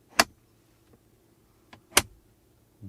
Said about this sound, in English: the middle armrest here opens really nice, and listen to the clicking sound.